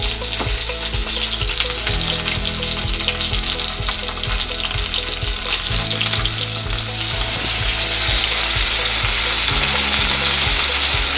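Chicken cutlets sizzle steadily in a hot pan, with a loud, continuous frying hiss and occasional stirring or shifting sounds. The sizzle grows a bit stronger toward the end, and no one speaks.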